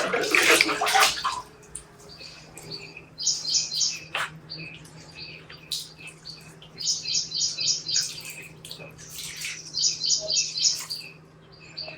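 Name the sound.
pouring water on garden plants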